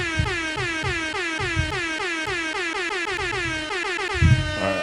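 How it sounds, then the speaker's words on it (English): A loud air horn blares in rapid repeated bursts, a continuous pulsing, wavering blast that runs for nearly five seconds, close and alone without speech. "So that's what, 14 air horns?"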